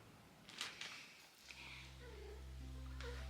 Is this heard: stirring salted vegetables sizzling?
no